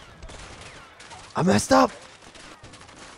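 Gunfire in the video game A Way Out, a World War-style battle scene: two short loud bursts of shots a fraction of a second apart, standing out over quiet background ambience, with a player's voice speaking briefly afterward.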